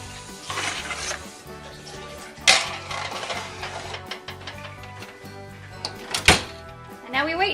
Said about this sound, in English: They're gonna go in the oven.